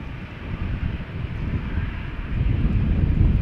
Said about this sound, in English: the first 737 is making its way over to the threshold.